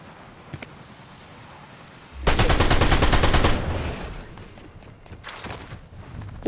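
Video game gunfire: after a quiet lull, a loud, rapid automatic burst rattles for about a second, then a few scattered shots follow more faintly.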